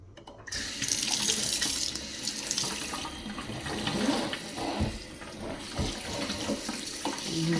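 Tap water runs steadily from a faucet into a double kitchen sink, a continuous close splashing hiss that stays loud and even throughout, with no voices.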